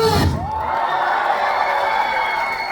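An audience at a post-screening stage greeting for the film 'Dream' with IU lets out a sustained shout and cheer, a dense crowd roar holding steady after a brief loud burst at the start.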